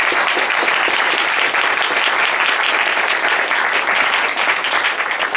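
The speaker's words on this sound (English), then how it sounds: "So let's get a big round of applause." Loud, dense applause from a conference audience after a healthcare talk, a sustained wash of many hands clapping evenly for about five seconds with no voices over it.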